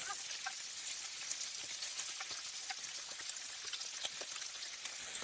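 Turkey bacon frying in a pan, a steady crackling sizzle with scattered sharp pops, continuous and fairly quiet, with no talking.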